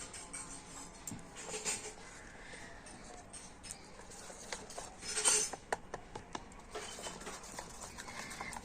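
A spoon works through carrot batter with cow's milk in a bowl, giving faint, irregular clinks and scrapes with a few louder taps against the rim, quiet and close.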